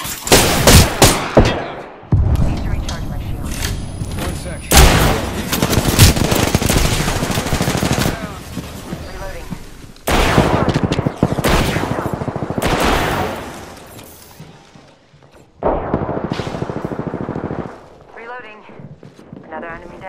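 Automatic weapon fire in the battle royale video game Apex Legends, with repeated loud bursts and rapid volleys spread across the clip, alternating with brief lulls and in-game effects.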